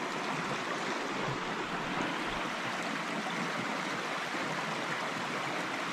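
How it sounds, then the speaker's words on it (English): Cedar Creek, a stream along the Manistee River Trail, flows in a steady, close rush of water with a broad, even hiss and no voices. "So this is Cedar Creek."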